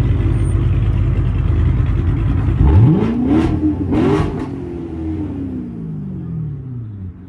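A Toyota Supra at a hood car meet revs hard twice in quick succession, its engine note climbing sharply then falling back to a rumbling idle amid loud outdoor background noise.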